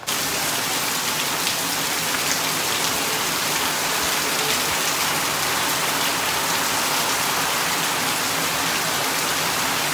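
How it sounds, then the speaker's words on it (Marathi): Steady, even rain falls continuously in a village, a dense hiss of drops hitting surfaces with no pauses or voices. "हळूहळू पडतोय पाऊस"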